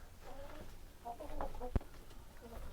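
Chickens cluck softly inside a coop in quiet scattered calls, with a sharp knock partway through and faint talking.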